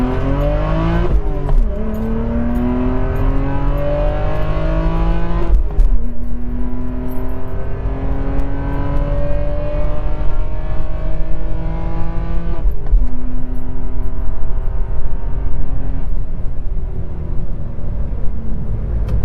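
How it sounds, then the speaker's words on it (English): A 2009 BMW E92 328i with its N52 engine and aftermarket exhaust revs repeatedly and climbs through the gears, each pull rising steadily before a shift, loud and close, with no talk. "It sounds glorious with this exhaust setup."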